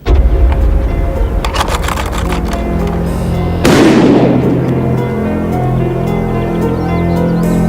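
Shotgun blast fired at a clay pigeon outdoors, a single sharp loud report midway followed by a decaying rumble, over steady background noise and earlier scattered clicks.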